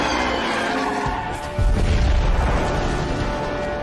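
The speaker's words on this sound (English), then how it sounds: "that guy's walking away from explosions as always" A movie explosion from Iron Man 2 booms out as a loud low rumble, with a heavy blast around the middle that keeps rolling to the end of the clip.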